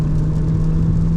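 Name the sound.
Jeep Renegade Altitude 2026 accelerating at full throttle, turbo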